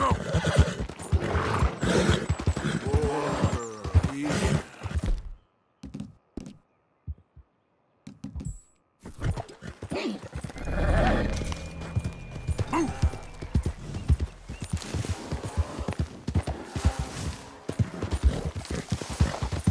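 A horse gallops with clip-clopping hooves in Red Dead Redemption 2, carrying a deer on its back, with steady rapid hoofbeats and occasional whinnies, close and loud, broken by a short quiet stretch.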